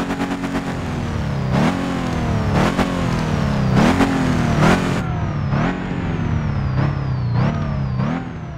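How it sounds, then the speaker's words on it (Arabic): A modified Nissan GT-R engine in a driving simulator fires up and is blipped repeatedly, each sharp rev rising and falling with loud pops and bangs between throttle stabs. "الحين قمنا بتعديل الجي تي ار، راح نشغل السيارة"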